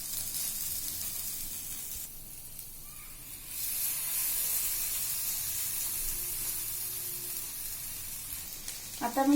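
Clam cutlets (vade) coated in semolina sizzle in oil in a pan, a steady close hiss that swells after a few seconds and continues without talk.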